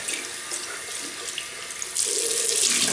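Warm water runs from a tap while someone rinses off after shaving with menthol soap, a steady close hiss that grows louder and fuller partway through, with no talking.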